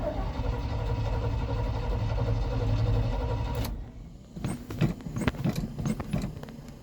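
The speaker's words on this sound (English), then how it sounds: "like a good old Chevy, she just fires right up" A 1978 Chevy K30 engine left sitting for months cranks and catches on a cold start, running steadily and loud, then cuts off and gives way to scattered clunks and clicks.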